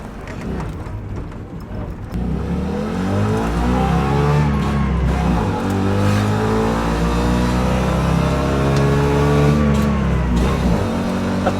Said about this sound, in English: First Trabant ride.